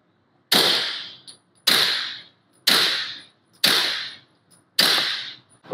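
Five suppressed pistol shots through a Rugged Obsidian 9 suppressor using Defiant Munitions ammo, each a sharp crack with a fast decaying tail, evenly spaced about a second apart, loud and close with no talking.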